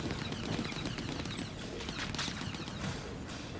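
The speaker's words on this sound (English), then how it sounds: "I think that's gunfire." Gunfire in the video game Star Citizen, a rapid crackle of distant automatic shots rattling for a few seconds, fairly faint and dense.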